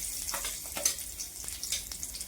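Garlic cloves drop into hot oil in a heated pan, giving a soft, steady sizzle with a few brief bursts of crackle, fairly faint and with no voice over it.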